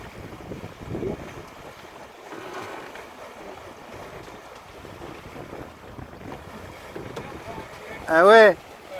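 Sea water washes against the hull of a sailboat under way, mixed with gusting wind buffeting the microphone. Faint voices murmur in the background, and a sharp, loud, warbling cry cuts in near the end.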